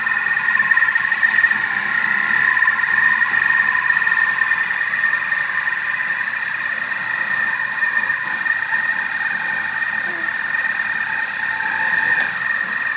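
A Thermomix TM6 food processor runs at speed 1 with a steady, even mechanical hum and whir, moderately loud and unchanging, with no voices.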